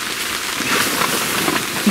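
Steady rain patters on a FIELDOOR two-room shelter tent at a campsite, a dense, close hiss of drops on the fabric with no talk over it.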